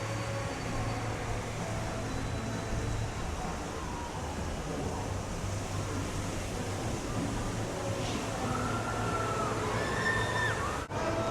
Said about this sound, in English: Crazy decision to have the waterfall on in this wind.